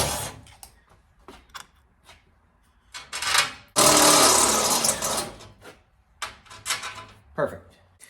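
Step bit drilling into metal on an '87 Ram 50 light install, a loud rough grinding burst in the middle flanked by shorter whirring bursts and clicks.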